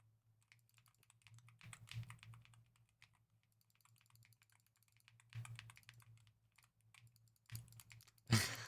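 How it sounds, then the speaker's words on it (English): Bursts of typing on a computer keyboard come and go in clusters, close and fairly quiet, with long hushed gaps between them and a steady low hum running underneath. "Sometimes I go silent, and you'll hear me typing."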